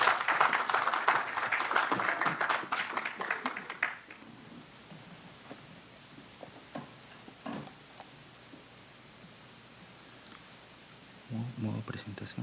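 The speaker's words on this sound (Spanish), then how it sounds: "recibámonos a él también con un fuerte aplauso" Brief burst of audience applause at an engineering presentation, loud for the first few seconds then fading into scattered claps and quiet room noise, with a voice speaking near the end.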